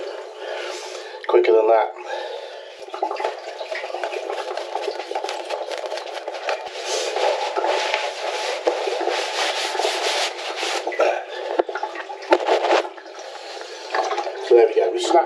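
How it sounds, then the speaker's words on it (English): Water draining from a plumbing pipe into a container during a plumbing job, a continuous rushing, splashing flow that runs steadily throughout with a brief voice speaking over it. "we snatched it and we're just dropping the water into it now"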